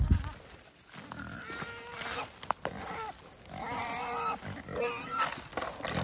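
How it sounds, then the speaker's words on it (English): Pigs and goats at feeding time on an animal sanctuary, with grunts, squeals and bleats rising and overlapping in close, busy bursts while people speak briefly nearby. "we're gonna go feed the goats and the pigs"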